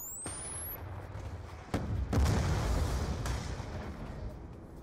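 A concussion grenade goes off in the Black Ops 2 video game: a sharp blast hits and then becomes a sustained, rumbling roar of loud broadband noise with further bursts on top. No one speaks.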